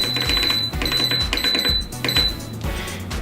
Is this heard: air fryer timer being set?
yes